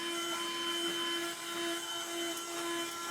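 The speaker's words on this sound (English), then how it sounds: "Hit it with the vacuum a little bit on the top." A vacuum cleaner runs steadily with a constant whine and hum while it cleans the top of a microwave, nearby and fairly loud, with no talking.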